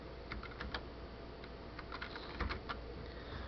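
Quiet keyboard typing of an IP address with dots into a host name field, a sparse run of soft clicking keystrokes in irregular rhythm, close and faint, with no one speaking.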